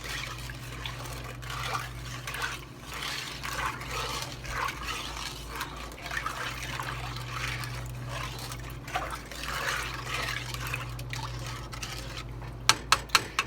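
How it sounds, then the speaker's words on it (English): Homemade banana pudding mixture being stirred: a continuous wet swishing and trickling of liquid over a steady low hum, with a few sharp clicks near the end, and no talking. "Just get everything stirred up and mixed together."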